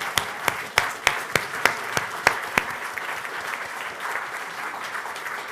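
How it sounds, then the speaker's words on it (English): A round of applause from a startup showcase audience, a dense wash of clapping with several sharp, loud individual claps standing out near the front early on, then settling into an even, sustained patter. "Let's give a round of applause to everyone who made this possible."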